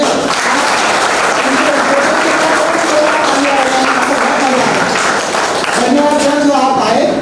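Loud, sustained applause from a seminar audience at an engineering college welcoming a guest, a dense wall of clapping with voices and a tonal hum running underneath.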